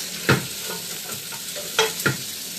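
Chopped green tomatoes hit a big frying pan with spices, onion and garlic, giving a steady low sizzle broken by three quick, loud scraping stirs close by.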